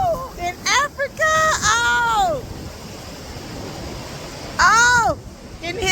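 Atlantic Ocean waves break and wash around people in the water at Saint Louis, Senegal, a steady hiss of surf beneath loud excited voices whooping and exclaiming.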